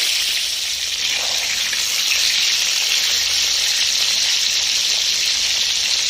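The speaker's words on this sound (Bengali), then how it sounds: "এবার ভেজে নেবো পটলগুলোকে" Pointed gourd (potol) frying in oil in a Bengali vegetarian dish, a steady, dense sizzle holding at even loudness throughout with no breaks.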